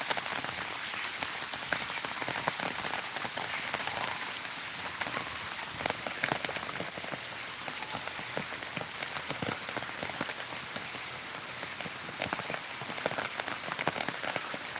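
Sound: floodwater flowing everywhere after heavy rain

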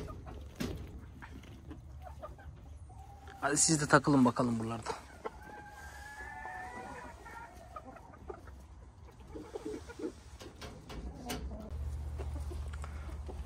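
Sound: chickens and young hens clucking

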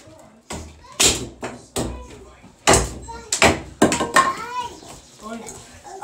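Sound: hammering

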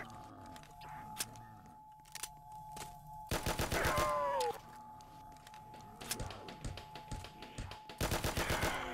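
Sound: gunfire wasting ammo in Roblox game Resurrection

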